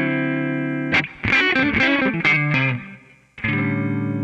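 A distorted electric guitar lick: a held note breaks into a quick run of picked notes and bends, then returns to a sustained tone, heard alone and up close.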